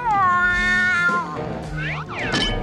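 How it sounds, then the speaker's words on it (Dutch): Cartoon cat meowing loudly in a drawn-out, wavering cry, then shorter yowls and rising squeals near the end, with a low music bed underneath. "jij lelijke oude kat"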